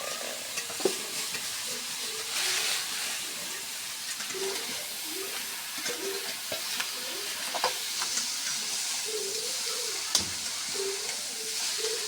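Ginger, garlic and cumin paste frying in a pan while being stirred, with a close, continuous sizzle and repeated scraping strokes of the spoon against the pan, with no voices.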